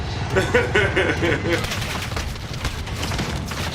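Rapid video-game gunfire, a dense fusillade of bursts crowding close together, loud and continuous throughout, with a voice talking over the shooting for the first part.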